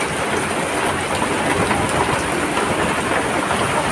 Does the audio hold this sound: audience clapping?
no